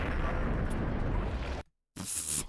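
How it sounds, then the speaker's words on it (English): A grenade blows up right at the player's feet in Max Payne, a loud, dense roaring blast that cuts to sudden silence, then a second burst of harsh debris noise. "That's a grenade right at my feet."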